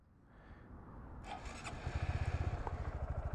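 Engine of a 2018 Honda Grom motorcycle cranking and starting, rising from a faint whir into a rapid, pulsing single-cylinder idle, fairly quiet and with no talk.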